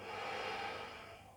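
A person draws a steady, audible inhale through the nose during a grounding yoga flow in pyramid and triangle pose, close and continuous for the whole moment, with no talking over it.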